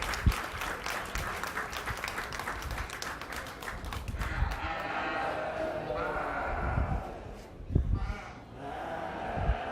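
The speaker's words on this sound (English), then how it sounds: "Let's give all these kids a round of applause." Crowd applause at a county fair sheep show, a rapid clatter of hands that tapers after about four seconds into arena noise with scattered thumps and shuffling.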